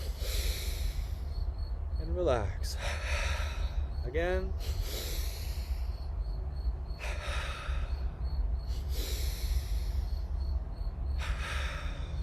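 Quick double sniffing inhalations through the nose, followed by long exhalations, repeated a few times, with a calm voice speaking briefly between breaths.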